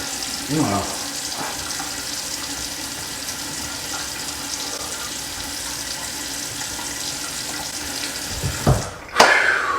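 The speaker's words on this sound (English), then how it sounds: "Then you want to rinse." A sink tap runs steadily while face scrub is rinsed off, a continuous close splash and hiss of water over several seconds, ending with a short louder splash and clatter.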